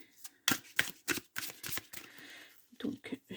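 Soft, close rustling and slapping of tarot cards being handled and shuffled in quick, irregular bursts.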